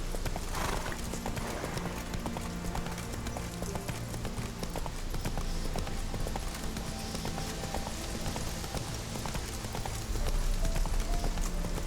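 Roach the horse in The Witcher 3 trots along with rhythmic hoof clip-clops, close and clear, over a game's ambient soundscape, with a brief whinny.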